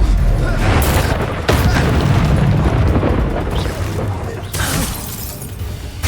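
A Confringo explosion spell in Hogwarts Legacy combat, a loud booming blast with a shattering burst, set amid continuous roaring battle noise that swells and settles over several seconds.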